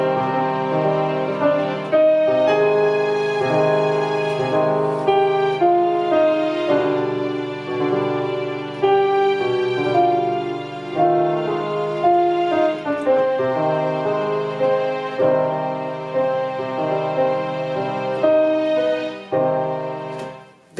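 A dressage freestyle melody for the Piaf passage section plays continuously and clearly, a steady orchestral-style tune with sustained tonal lines and little pause, with no voices over it.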